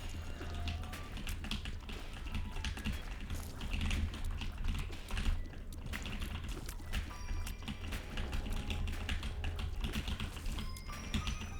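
Steady computer keyboard typing runs the whole way through, dense overlapping key clicks with no clear pauses, heard over a constant low background hum while someone plays The Binding of Isaac.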